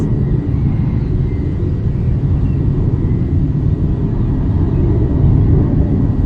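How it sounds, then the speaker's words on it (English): A low, steady airplane rumble drones on in Phuket without a break, fairly loud and even, with no other sounds standing out. "Hear the plane?"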